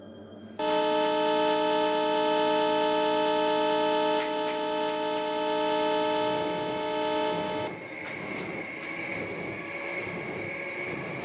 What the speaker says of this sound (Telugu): చూడండి గైస్, ఎదురుగా ట్రైన్ అయితే వస్తుంది